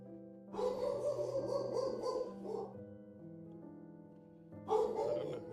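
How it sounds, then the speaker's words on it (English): A house dog barks nearby indoors, a burst of loud, harsh barking lasting a couple of seconds, then a pause and another loud bark, with no one speaking over it. "Apologies for my dog."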